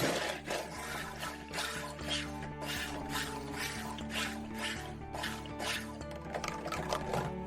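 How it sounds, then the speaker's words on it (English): Thick, bubbly liquid soap batter being stirred in a container makes continuous wet sloshing and gurgling, with repeated soft liquid swishes and pops. "This is gonna be a bubbly mess, but I'm gonna stir out the bubbles."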